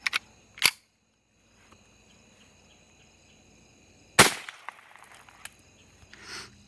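Remington Golden Bullet .22 high velocity hollow point rounds fired outdoors, a few sharp, loud cracks separated by long quiet gaps, with faint echoing tails after each shot.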